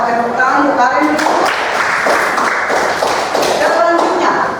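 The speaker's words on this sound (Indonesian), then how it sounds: "Pakai tepuk tangan untuk Karin dulu." A school class breaks into loud, dense clapping for a student, a burst of many hands in an indoor classroom, with voices chattering and shouting over it.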